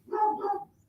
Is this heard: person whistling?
no